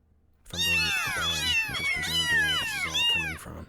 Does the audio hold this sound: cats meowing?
yes